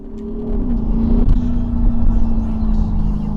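An Audi SQ8 SUV accelerates hard to pass traffic at a light, a steady, loud engine drone building from inside the cabin with a swell midway, alone without talk.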